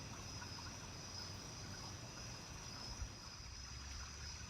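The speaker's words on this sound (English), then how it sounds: "We do have a constant trickle of water from a nearby fountain, I guess it is." Water from a nearby fountain trickles constantly and faintly on a quiet street, a steady wash of noise with no talk.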